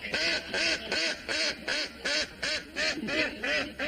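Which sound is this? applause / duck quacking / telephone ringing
duck quacking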